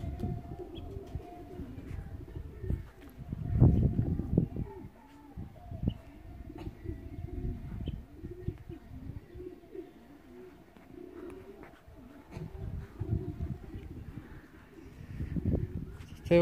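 Racing pigeons cooing outdoors in a loft area, soft low repeated coos and rustling coming and going over a quiet background, with a few louder bursts close by.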